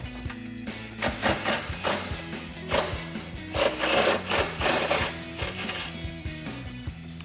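A ratchet fitted with a 13mm socket on an extension works an exhaust hanger bolt on a Dodge Challenger, giving rapid, rhythmic clicking bursts with metallic taps, close and fairly loud, no talk.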